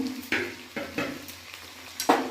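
Chopped ginger and garlic frying in a pan, a low sizzle punctuated by a few sharp stirring scrapes and utensil knocks against the pan, close and without talk.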